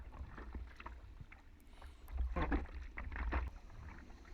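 A surfboard paddled through ocean water, soft splashes and strokes in the surf over steady wind and water rumble, with the stroking growing louder toward the end.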